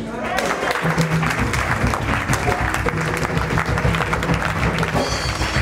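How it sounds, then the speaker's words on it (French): Congregation at a church service applauds continuously, a dense steady wash of clapping with crowd noise and a low musical hum underneath. "Est-ce que tu peux donner l'acclamation?"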